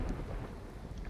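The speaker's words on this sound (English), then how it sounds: "Oh, a thunderstorm!" Thunderstorm in Terraria, with a steady wash of rain and a deep low rumble of thunder running through the whole short stretch at a fairly loud level, with no talking.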